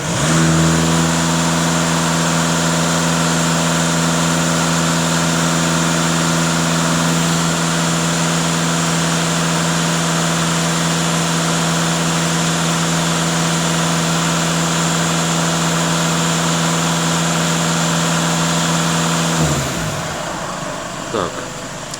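A Volkswagen Passat B8 engine held at about 2500 rpm during diagnosis of an emissions system fault, a loud steady close drone with a constant pitch, then the revs drop and fade near the end.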